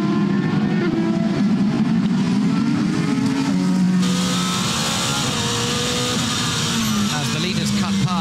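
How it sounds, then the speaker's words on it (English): Porsche race cars roaring past at the Nürburgring during a six-hour endurance race, loud engine howls rising and falling as several cars pass in close succession, with a commentator talking over the noise. "As the leaders cut past the Golf Porsche and complete another lap as they come over the line."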